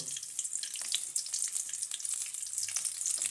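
Chickpeas and onion frying in a pan, giving a bright continuous sizzle with crackling pops and the scrape of stirring, close and steady with no talk.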